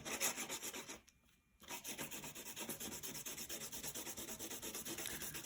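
Red colouring on paper makes a faint, rhythmic rubbing scratch, repeated strokes at a steady pace with a short pause near the start, close and quiet.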